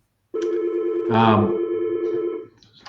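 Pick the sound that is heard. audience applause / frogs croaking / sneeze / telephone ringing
telephone ringing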